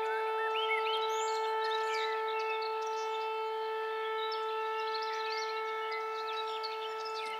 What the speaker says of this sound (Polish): Syreny wyją.